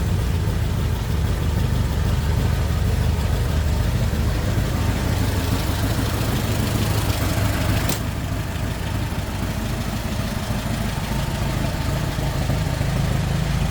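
A 1923 Ford Model T engine idling steadily nearby, a low rumbling chug that runs continuously with no talking.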